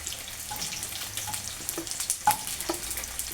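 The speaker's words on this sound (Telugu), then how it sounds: "ఇప్పుడు ఇవన్నీ పన్నీర్ అన్నీ ఇందులో వేసి కొద్దిగా టాస్ చేసుకోవాలి." Paneer pieces sizzle and fry in hot oil as they are tossed in the pan, a steady crackle broken by scraping stir clicks, with no voices.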